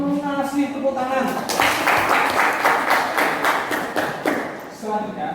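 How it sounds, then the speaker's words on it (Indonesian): Schoolchildren in an Indonesian classroom clap in a quick, rhythmic burst for about three seconds, with a teacher's voice heard just before and after the clapping. "Tepuk tangan."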